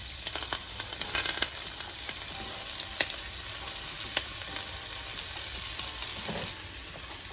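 Chopped onions and curry leaves fry in hot oil in a pan alongside a bay leaf, cardamom, cloves and cinnamon, giving a steady close crackling sizzle with scattered sharp pops and occasional stirring.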